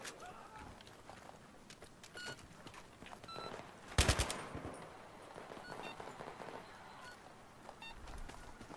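Submachine gun fire from a PP-19 in the Battlefield 3 multiplayer game, heard as scattered bursts with one sharp, loud burst near the middle over busy battlefield ambience, with voices talking throughout.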